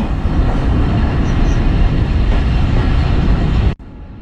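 Modhumoti Express pulling an old vacuum-braked rake out of Kushtia station, a loud steady rumble of running wheels and rail noise that cuts off abruptly near the end.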